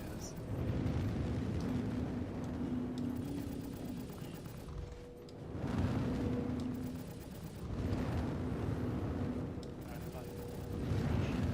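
Ship weapons in Star Citizen fire in a steady, rumbling barrage of layered blasts with periodic swells and a faint humming tone, while voices talk over the combat.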